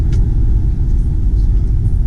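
A 2014 Mercedes-Benz C250 Sport with about 101k miles cruising on a road, giving a steady, loud low engine and road rumble inside the cabin with no breaks.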